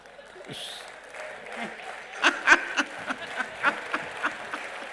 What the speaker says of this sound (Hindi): अच्छी लगे तो ताली बजा देना